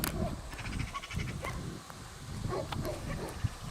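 Farm dogs bark in a loose series of sharp yelps and barks, fairly distant, over steady outdoor background noise with brief faint voices.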